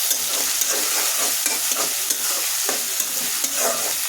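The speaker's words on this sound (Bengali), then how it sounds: "ভালোভাবে লাল লাল করে আমি ভেজে নিব পেঁয়াজটা" Chopped onions with a bay leaf frying in hot oil in a pan, a loud constant sizzle with scattered crackles and occasional scraping stirs, no voices.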